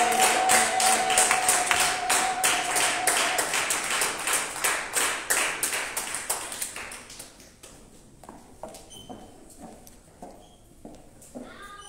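Church congregation clapping hard in a rapid steady rhythm, loud and dense at first, then thinning into scattered claps that fade out toward the end.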